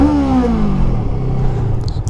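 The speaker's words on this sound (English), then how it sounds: "Let me pull the clutch in and give it a rev." A Honda Rebel 500 motorcycle, clutch pulled in, revs up and falls back, its engine note sweeping down into a steady, loud exhaust rumble close by.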